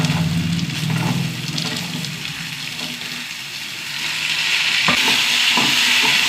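Potatoes and softened onions frying in a pan, with a loud continuous sizzle and hiss and occasional stirring scrapes, close up and without speech.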